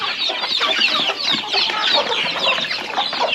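Many chickens cluck and chatter continuously at close range on a poultry farm, a dense, busy flock sound with no voices over it.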